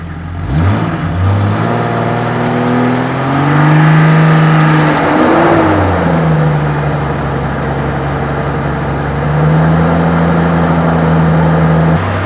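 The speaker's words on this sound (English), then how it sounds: "So try to rev your engine." A Jeep XJ engine idles, then revs up and eases back down, holding a steady loud drone close by.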